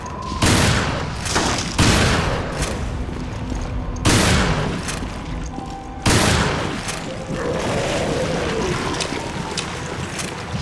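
Gunfire in the survival horror game Resident Evil Revelations, several loud sharp shots spaced a second or two apart, each followed by booming decay, over a steady windy, watery background.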